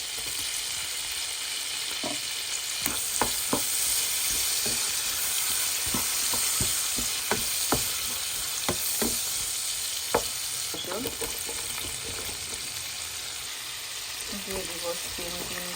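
Onion sizzles in a hot pan for chicken chow mein, a constant loud frying hiss with scattered sharp clicks and pops from stirring, heard close up, with a faint voice toward the end.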